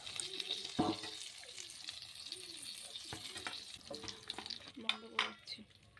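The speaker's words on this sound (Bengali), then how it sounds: "আবারও আমি একইভাবে সেই পটলগুলোকে ভেজে নেব নুন আর হলুদ দিয়ে।" Pieces of pointed gourd (potol) sizzle in a hot pan with salt and turmeric, a steady frying hiss broken by a few stirring knocks and brief clinks of utensils.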